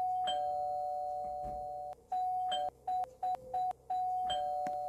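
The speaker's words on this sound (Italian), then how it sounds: "Vediamo se suona il campanello" A doorbell chimes repeatedly at a house in Roblox Brookhaven: one long tone, then several short clipped rings in quick succession, and a final long ring, clear and moderately quiet.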